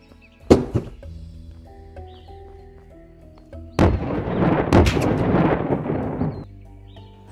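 Loud gunfire in the video game Unturned, a sharp shot followed by a couple of echoing reports, then a sustained booming burst of shots with rumbling tails.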